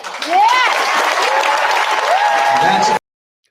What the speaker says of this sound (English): And listen also to the cheers.